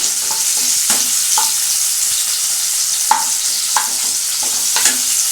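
A pan sizzles steadily for jeera paneer rice while a spatula scrapes and taps through it at irregular moments, close and fairly loud with no talking.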